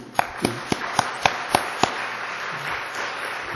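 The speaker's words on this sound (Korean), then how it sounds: "우리 식당 봉사하는데 박수 한번 치는 거예요." A church congregation claps together in the sanctuary, a run of about seven sharp, evenly spaced claps that fades into softer scattered clapping.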